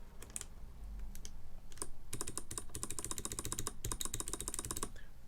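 Keys clatter on a TaoBao 96-key mechanical keyboard kit fitted with Box Navy switches, the backspace key among them, starting with a few sparse clicks and then turning into fast, crisp runs of close tapping.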